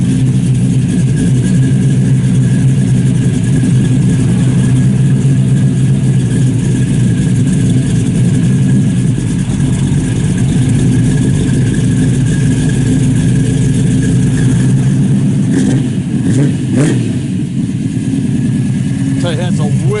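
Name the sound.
1967 Pontiac Tempest engine idling, throaty exhaust, Flowmaster mufflers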